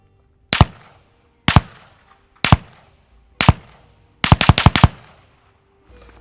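Suppressed gunshots fired through a Blackmagic suppressor outdoors: four evenly spaced loud cracks about a second apart, then a rapid burst of shots, each with a short decaying tail.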